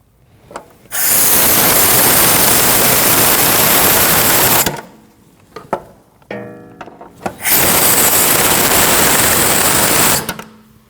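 Power ratchet or impact tool tightening rear shock mount bolts on a 2013-2019 Ford Escape, two loud sustained buzzing bursts separated by a pause with small clicks and clinks, close up.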